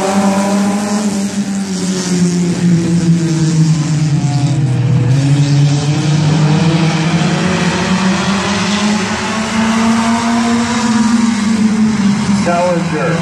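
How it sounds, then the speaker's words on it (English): Compact race cars roar steadily at Midvale Speedway as a heat gets ready to go green, a loud continuous engine drone rising and falling in pitch with a commentator talking over it. "Getting ready to go green, Jeremy Salinger."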